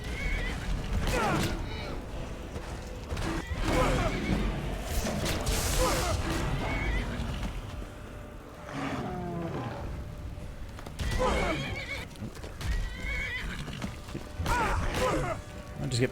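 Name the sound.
horse neighing in video game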